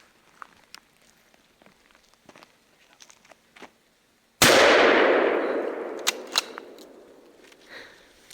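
A single loud shotgun blast fired at a partridge during an outdoor hunt, its boom echoing and decaying over several seconds, preceded by quiet rustling and faint footsteps in the field.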